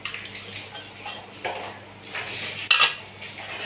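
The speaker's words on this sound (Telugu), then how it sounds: "ఇప్పుడు కూర అయితే ఒకసారి కలుపుకుందాం" Ivy gourd curry stirred in a pot: soft, faint scraping and shuffling of a spoon against the vessel, with one brighter metallic clink near the end over a low steady background.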